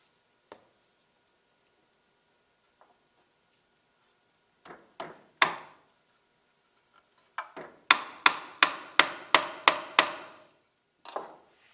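Wooden plugs are tapped into holes in a wooden shelf: scattered single knocks, then a quick run of about seven crisp, evenly spaced hammer taps, with quiet gaps between and a final pair of hits.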